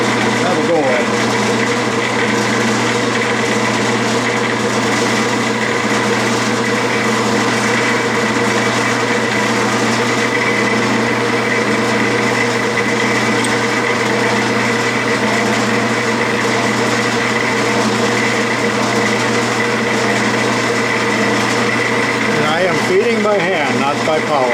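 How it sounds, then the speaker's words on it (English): A light lathe running in back gears cuts off large stock by hand feed, giving a continuous steady mechanical whir and hum with no pauses, loud and close throughout, while a person talks over it. "cutting off large stock on a light machine"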